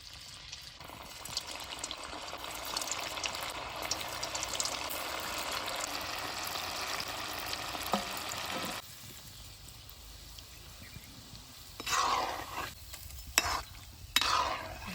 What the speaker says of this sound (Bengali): এখন এক এক করে আমি তেলে ছেড়ে দেব। হালকা আঁচে ভেজে নেব।